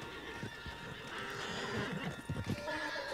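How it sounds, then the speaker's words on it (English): A horse whinnies in Red Dead Redemption 2, a loud close neigh with hoofbeats clattering around it over a game soundscape. "Put Strauss on the back of John's horse"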